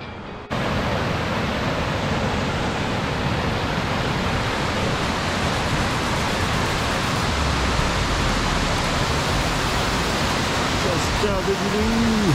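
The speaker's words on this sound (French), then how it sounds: "Le torrent et 2-3 petites mini cascades et la grande cascade d'Iléhou," The Iléhou waterfall and a mountain torrent in the Pyrenees roar with a dense, steady rush of falling water, loud and close, continuous throughout.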